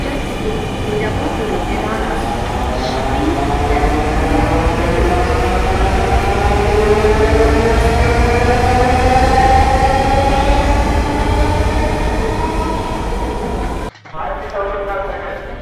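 A Dhaka Metro Rail train at a station as passengers board, its loud continuous rumble with rising and falling electric motor whine close by, cutting off sharply near the end.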